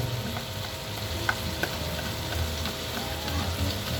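Ingredients being stirred in a kawali while making Bicolano ginataang dinailan, a steady low scraping and shuffling with a faint sizzle running underneath, close by and moderately quiet, with no talk.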